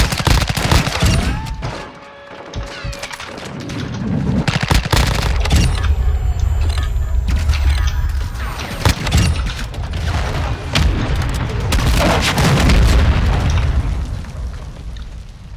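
Chimera, also called the Honey Badger, a close-range weapon in Modern Warfare 2, firing rapid automatic bursts amid booms and explosions, loud and near, with brief lulls between volleys.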